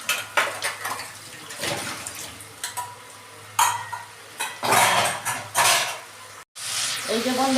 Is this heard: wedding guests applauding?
no